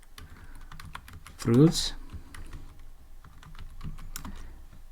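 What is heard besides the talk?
typing Python code on a computer keyboard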